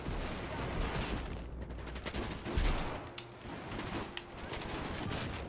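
Gunfire from an M416 rifle in Battlefield 4 during a large 32 versus 32 Conquest match, with rapid bursts and dense overlapping shots filling the clip, close and loud, plus a few heavier thuds.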